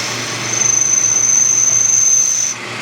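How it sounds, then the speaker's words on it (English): Power drill boring holes into a metal Subaru Impreza cam shaft gear, a steady high whine starting after a short pause and running evenly for about two seconds before cutting off, close and alone. "I'm going to drill some holes."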